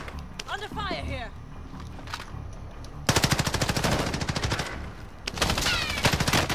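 Rapid automatic gunfire from Call of Duty: Modern Warfare, starting in dense bursts midway and returning after a brief lull, loud and close, with voices and faint footsteps in the background earlier.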